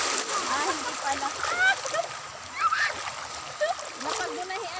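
River water splashes and churns in loud, uneven bursts, with some chirping sounds mixed in and voices nearby.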